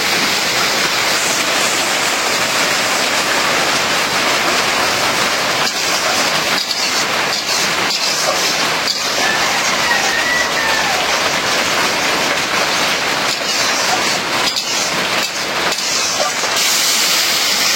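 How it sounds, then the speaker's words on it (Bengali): Steady rain pours down outdoors near a home kitchen, a dense continuous hiss lasting throughout with scattered louder drips and patters, no voices over it. "বৃষ্টি শুরু হয়ে গেছে"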